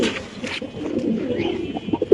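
Pigeons coo at a market stall selling breeding pigeons, soft throaty rolling calls repeating close by over a low background murmur.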